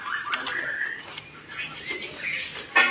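A caged bird being packed for shipping in Indonesia, with scattered chirps, short calls and wing flutters at close range amid rustling handling noises.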